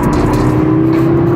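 A 2024 Audi S3 under acceleration, its steady engine drone holding a strong tone from inside the cabin, loud and continuous throughout.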